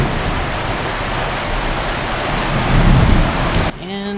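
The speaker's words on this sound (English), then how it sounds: "It is thundering and lightning like crazy and raining outside." Heavy rain pours down steadily in a thunderstorm, a dense, loud hiss with a low rumble of thunder swelling near the end before the sound cuts to a quieter, muffled interior.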